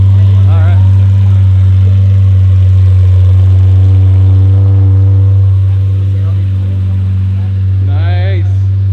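Lamborghini Murcielago LP640 with a big V12 engine running after a jump start, a loud steady low idle droning throughout with a voice speaking briefly over it near the start and end.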